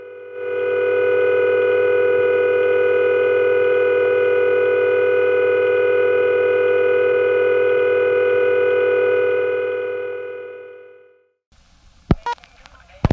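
A steady, loud electronic telephone ring tone merged with a high tone hums unbroken for about ten seconds, then cuts off, followed by a few faint clicks and knocks.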